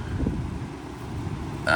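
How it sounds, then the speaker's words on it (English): Steady low rumbling wind buffets the microphone throughout, a dense blustery roar with a brief brighter burst at the very end. "sorry about the wind"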